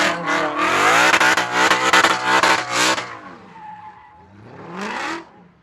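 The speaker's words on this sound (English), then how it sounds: "feathering the throttle, making those glorious V8 soundtrack" A V8 car drifts around a car show arena, engine roaring loudly with rapid throttle feathering and rhythmic revving, then easing off before a final short burst of revs.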